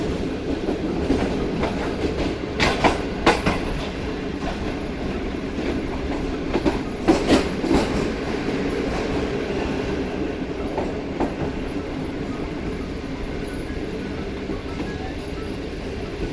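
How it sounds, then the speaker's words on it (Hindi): The Pak Business Express rolls along the rails out of Lahore Junction, a continuous near rumble with clickety-clack wheel beats and a few sharper metallic clanks, loud and steady throughout. "तो ये ट्रेन हमारी लाहौर जंक्शन से निकलने के बाद लाहौर कैंट रेलवे स्टेशन को स्किप करने के लिए आगे बढ़ रही है।"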